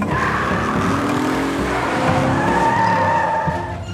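A cartoon car skids in the jungle, tires squealing in long wavering tones over a revving engine, loud and close for nearly four seconds with no talk.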